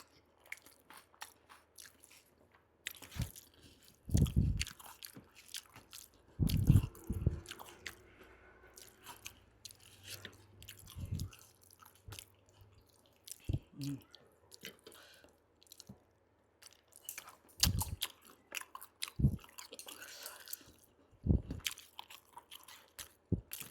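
Someone eating rice with chicken gizzard curry, producing close, wet chewing and biting sounds in irregular bursts separated by quiet pauses.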